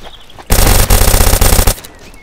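Automatic gunfire in the video game Dead Side, a loud rapid burst of shots lasting over a second, close and harsh, followed by a quiet tail.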